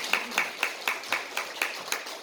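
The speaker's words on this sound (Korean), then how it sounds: "이럴 때 박수 한번 쳐주세요." A temple audience at a Buddhist sermon claps in slow, evenly spaced single claps, about eight sharp beats in a steady rhythm, fairly faint and unaccompanied by talk.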